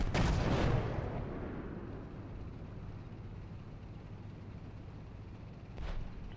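A single heavy tank cannon shot in a winter battle in Steel Beasts Pro PE, booming at the start and rolling off slowly, followed by a fainter distant report near the end.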